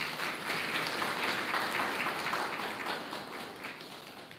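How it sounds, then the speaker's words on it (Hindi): A crowd of devotees at a live spiritual meditation gathering claps together in sustained, dense applause that swells and then gradually tapers off, with no speech. "ताली बजाओ अपने लिए।"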